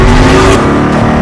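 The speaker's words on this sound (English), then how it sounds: "The reason this car is one of the fastest on the planet is because of its twin turbocharged V8 engine" Twin turbocharged V8 carbon fiber supercar accelerating hard, a loud, close, continuous engine roar with a rising tone that fills the whole moment.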